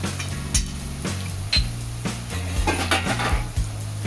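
Ridge gourd fries in a pan with turmeric and salt added, giving a steady sizzle with scraping stirs and clinks of a utensil against cookware, close and continuous without speech.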